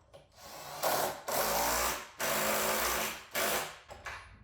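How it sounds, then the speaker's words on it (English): A power drill boring bolt holes for a boat's outboard motor mount, three or four loud close bursts of high whining drilling separated by brief stops, with no talking. "I'm gonna drill these holes quick and we'll put some bolts through"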